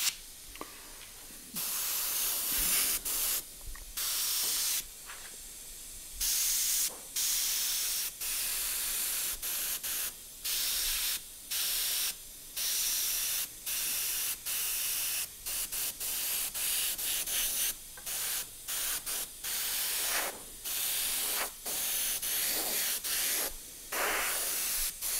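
An airbrush sprays paint onto a totem pole in short repeated bursts of airy hiss, each a second or two long and separated by brief pauses, close and fairly loud with no talking.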